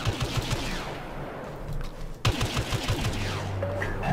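Rapid laser blaster fire in the Star Wars Battlefront video game, a steady rattling stream of repeated shots with a brief pause partway through before firing resumes, loud and close, with no talking.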